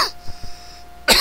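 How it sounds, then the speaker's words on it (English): A person coughs close by, with a sharp burst at the start and another near the end, loud and clear against a quiet room, with no speech. "Excuse me, I got a cough."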